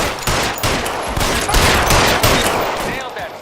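Loud, sustained gunfire from the L.A. Noire video game, heard as rapid, dense bursts of shots fired back to back for several seconds with no pause.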